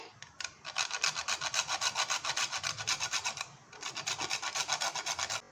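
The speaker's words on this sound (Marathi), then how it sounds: "जायफळ तुम्ही ह्याच्यामध्ये ग्रेट करून किसून ॲड करू शकता" Nutmeg is grated for a coconut milk and jaggery dish, making quick rhythmic rasping strokes up close in two steady runs with a short pause between them.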